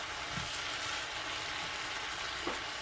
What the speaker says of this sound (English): I'm gonna add our meat back. Stir it up real good.